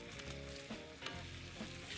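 Small bite-size pork pieces browning in oil in a pan for kabocha stew, a faint close sizzle with a few soft stirring scrapes, no talking.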